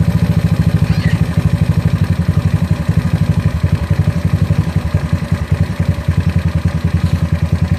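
GY6 scooter engine fitted with a PWK 30mm carburetor, running loud and close with a steady, rapid thumping exhaust beat and mechanical clatter, holding an even pace throughout.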